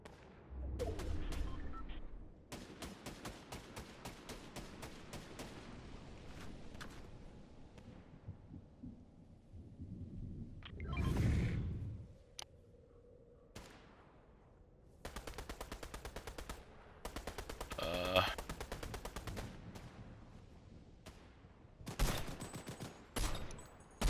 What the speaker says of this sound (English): That's somebody feathering their shots trying to get somebody from a distance.